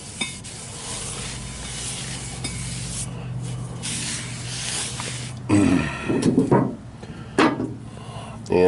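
Denatured alcohol sprayed onto brake parts during a 2010 Nissan Altima brake change: a soft, continuous hiss through the first half, then a few louder bursts and clatters near the end.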